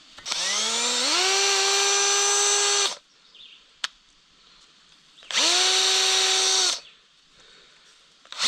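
A drill spins a brush over the valve seats of an abandoned Case 580CK backhoe engine in two loud, close bursts. Each burst rises in pitch as the drill spins up, with a short pause and a sharp tap between them.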